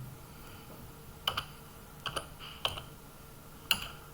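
Keys on a computer keyboard clatter in short bursts while Python code is entered, with a few clustered taps and pauses between them in a quiet room.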